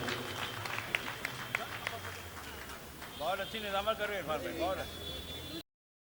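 Audience applause at a mushaira poetry gathering comes as a steady patter of clapping from a crowd, with someone speaking over it partway through before the sound cuts off.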